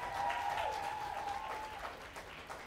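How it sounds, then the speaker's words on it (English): Applause from a school talent show audience at a middle school, a steady wash of clapping that fades gradually over a few seconds, with a faint sustained tone riding underneath. "Another round of applause for Brennan,"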